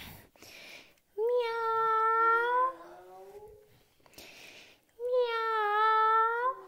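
A human voice imitates a cat with two long, drawn-out meows, each rising and then sliding down, separated by a short pause and delivered close and clear during a children's family yoga story.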